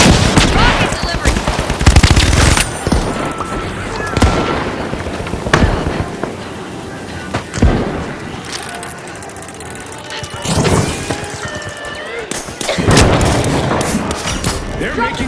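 Rocket explosions and heavy gunfire in the shooter game The Finals, repeated loud booming blasts and rapid fire bursts at close range, with game voices talking over the combat.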